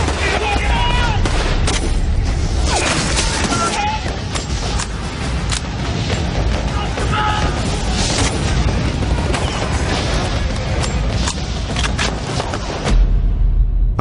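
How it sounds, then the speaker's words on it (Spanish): Single rifle shots and scattered gunfire on a beach during a wartime landing against German coastal defences, loud and dense throughout with booming blasts and crackling reports layered together. "Tiros sueltos."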